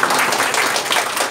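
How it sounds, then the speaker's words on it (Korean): An audience at a press conference breaks into steady, dense applause welcoming a professor, many hands clapping together in a bright, close wash of sound. "우리 박수로 모시겠습니다"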